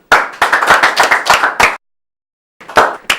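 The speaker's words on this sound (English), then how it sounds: "I'm sure the Honorable Minister deserves a greater applause than that." Sparse, uneven clapping from a small audience at an event honouring a minister: a short burst of separate hand claps that stops abruptly, then a brief pause before a couple more isolated claps.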